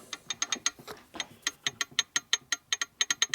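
A circuit breaker on a 1947 Harley-Davidson EL knucklehead 74ci motor clicks sharply and repeatedly in a quick, slightly uneven ratcheting rhythm, close up and isolated with no talking.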